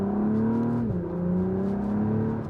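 Turbo V6 of a 2025 Acura TLX Type S in Sport Plus mode heard from inside while driving, a smooth steady engine drone that briefly dips in pitch, as with a gear change, then climbs again.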